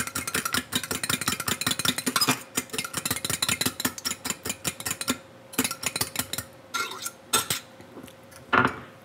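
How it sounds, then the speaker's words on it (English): A fork clinks rapidly against a bowl while mixing crushed rich biscuits, a brisk steady run of sharp metallic taps that slows and breaks into a few scattered scrapes near the end, close and clear. "I'll mix those with the fork"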